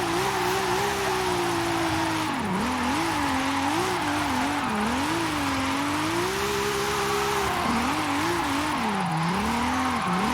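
Car drifting on the handbrake in the racing game Forza Horizon 5, a loud continuous engine drone whose pitch wavers and dips as revs rise and fall, with broadband tyre noise throughout and no talk.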